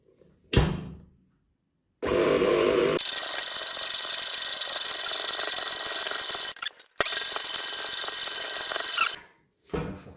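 Electric mixer beating a savoury kougelhopf batter, a loud continuous whirring drone lasting several seconds, briefly interrupted once, with short knocks before it starts and after it stops.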